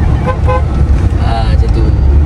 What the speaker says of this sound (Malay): Macam tu, kena bunyikan horn.